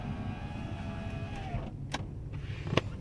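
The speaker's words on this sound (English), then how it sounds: "Power windows in the car work the way they should." Power window motor on a 2002 Toyota Tundra SR5 TRD pickup whirs steadily inside the cab, then stops with a soft thunk, followed by a couple of faint clicks; no talking.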